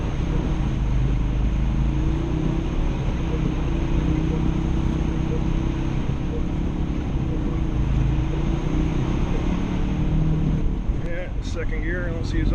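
A Ford Focus RS pushes through deep snow in a blizzard, its engine a steady loud drone in second gear with constant wind and snow rumble filling the cabin, and a few faint clicks near the end.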